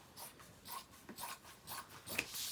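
Scissors cutting through fabric for a simple crossbody bag, a soft, quiet series of rhythmic snipping and rasping strokes, close by.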